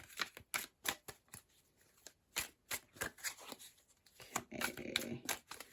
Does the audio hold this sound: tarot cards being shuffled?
yes